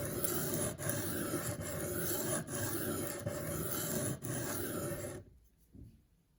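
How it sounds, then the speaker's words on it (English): Steady rasping strokes of a knife blade across the abrasive of a Work Sharp guided sharpening system, sharpening a Spyderco Gayle Bradley 2 with M4 steel, close and continuous with brief pauses between passes, stopping abruptly near the end. "I'm using the Work Sharp guided sharpening system"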